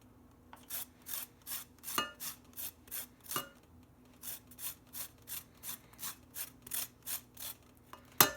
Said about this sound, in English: I have this here organic lemon. Just going to zest.